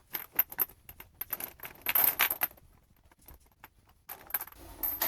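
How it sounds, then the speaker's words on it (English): A steel chain is laid down and handled on a work surface, with close metallic jingling and clinking links in scattered bursts, a quieter pause, then more rattling. "Get the chain laid down, cut that down to length."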